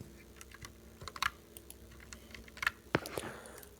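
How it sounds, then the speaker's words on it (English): Keys tapped on a computer keyboard while entering a name, short irregular bursts of clicks at close range, quiet and without any talking. "we want to delete this admin from the users table. So what we have to do, that we are gonna type his name"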